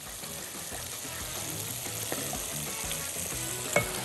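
Pasta with tomato paste and tomato juice sizzles steadily in a hot pan, a continuous close frying hiss with light stirring scrapes and one brief clink near the end, no voices.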